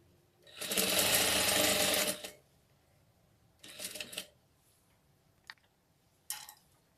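Sewing machine topstitching a seam on a doll dress: one steady burst of close, rapid stitching about a second and a half long, then a shorter run and two quick stitch bursts with pauses between.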